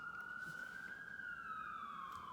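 A police siren passing outside, a single wailing tone rising then slowly falling, moderately distant and steady over a quiet background.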